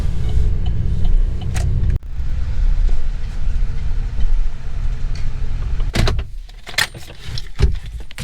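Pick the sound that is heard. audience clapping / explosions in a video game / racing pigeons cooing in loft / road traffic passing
road traffic passing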